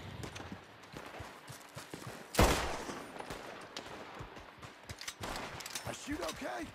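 Gunfire rings out in the open-world Western video game Red Dead Redemption 2, with one sharp loud shot standing out among scattered quieter pops, hoofbeat-like clatter and some indistinct voices.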